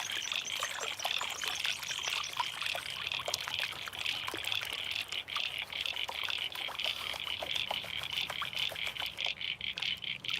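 Creek water flows and trickles steadily past a spot where gold is being washed, a continuous bright babble lasting throughout, with a bird calling faintly in the background.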